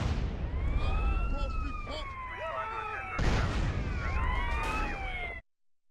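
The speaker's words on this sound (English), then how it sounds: "So I decided to just blow myself up with the police car here." A wailing police siren in a video game sweeps up and down, broken by a loud burst of the police car exploding midway, then the siren continues before cutting off.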